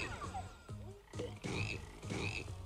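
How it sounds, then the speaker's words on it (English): Frogs croak in the video game BattleBlock Theater, a run of several quick, fairly loud croaks in uneven bursts with no talk over them. "Go away, frogs."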